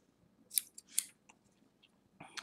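Scissors snip cotton wick for an e-cigarette atomizer coil: several sharp, crisp cuts in quick succession, very close and quiet, in an otherwise silent room.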